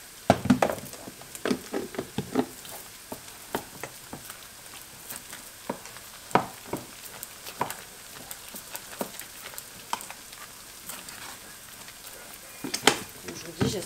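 Pancakes frying in oil in a pan make a soft, steady sizzle broken by scattered crackles and small pops across the clip, with brief scraping or handling sounds now and then.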